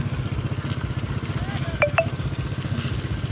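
A motorcycle ridden along a road on the way to a local procession, its low engine putter throbbing steadily and close, with someone speaking over the engine and two brief high beeps partway through.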